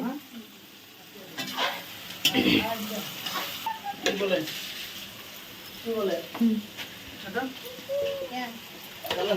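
Vegetables sizzle in a pan after a panch phoron, cumin, chilli and bay-leaf tempering, with ginger and chilli paste. Stirring clatters intermittently and voices talk over the frying throughout.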